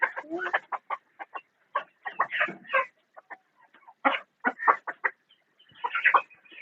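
Native fighter-breed chickens, including an old hen, clucking in a poultry cage in Shrivardhan: a string of short, close, loud clucks and squawks in uneven bursts with brief pauses, picking up again in a thicker cluster near the end.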